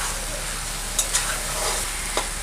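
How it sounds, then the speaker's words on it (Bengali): Prawns and onions frying in a pan make a dense, even hiss of sizzling oil, with a couple of brief clinks and scrapes as the mixture is stirred, close and uninterrupted. "চিংড়ি আর পেঁয়াজ ভাজার দারুণ একটা গন্ধ বেরোচ্ছে।"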